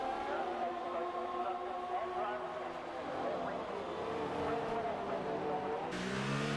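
Race cars in the F1 2018 video game, a race in Australia. Engines whine and drone steadily as one car overtakes another, with talk running over the top.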